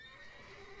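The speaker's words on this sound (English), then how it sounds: "Worthy of the best horse. The mare is yours." A single short, clear horse whinny from a video game rings out alone, close and fairly loud, with no talk over it.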